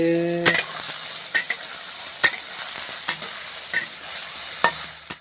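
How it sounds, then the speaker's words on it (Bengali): Soybean chunks fry in a pan under a constant close sizzle, while a utensil stirs and scrapes them in several distinct clacks and knocks, with no talk. "সোয়াবিন ভাজি হচ্ছে।"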